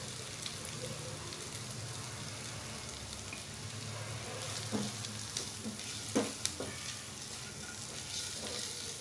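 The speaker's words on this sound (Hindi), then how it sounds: "इसी तरह से इसको फ्राई करना है लगभग पाँच मिनट तक फ्राई करना है" Boiled potatoes frying in a pan for a dry South Indian potato dish, a continuous quiet crackling sizzle throughout with a few light spatula taps in the second half.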